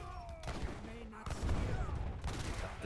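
Howitzer and other cannon fire booming in the real-time strategy game Age of Empires III, several heavy rumbling shots and gunfire bursts, with a voice talking over part of it.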